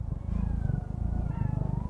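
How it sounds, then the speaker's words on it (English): A cat at an animal shelter purrs with a low, rhythmic rumbling, close and steady, pulsing quickly with faint higher tones drifting above it. "I can hear it purring."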